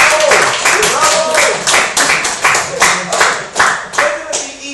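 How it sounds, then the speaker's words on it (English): An audience claps and applauds for a speaker at an evening gathering, a loud burst of close, distinct hand claps with a rough uneven rhythm that gradually thins and fades. "ask everybody to give Zari another round of applause."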